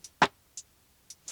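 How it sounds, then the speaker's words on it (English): Lo-fi top drum loop from a Cymatics sample pack: sparse, quiet hits with one fuller thump and a few crisp high ticks spaced irregularly. "I also took a top loop that I got from a Cymatics pack"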